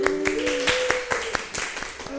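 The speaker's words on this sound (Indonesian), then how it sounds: "Ayo kasih tepuk tangan yuk." Pupils in an Islamic religious education microteaching class clap their hands in a steady, quick rhythm while a voice carries over the claps.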